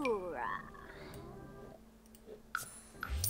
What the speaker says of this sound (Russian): Размножать лягушек.